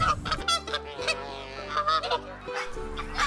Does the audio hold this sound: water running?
no